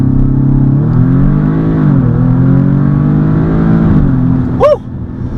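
An Audi S3 launches hard under launch control, its engine held near 4,000 rpm before a loud, sustained surge of revs climbing steadily, ending in a brief sharp squeal, with no talking.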